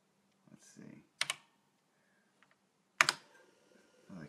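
Keys clatter on a 1982 Apple IIe computer keyboard in two sharp, loud bursts of typing separated by quiet gaps, with faint scattered clicks and a low murmur in between.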